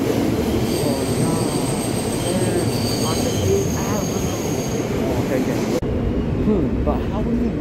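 An M subway train runs along 8th Avenue, a loud continuous rumble of wheels on rails with high squeals, while people talk excitedly over it.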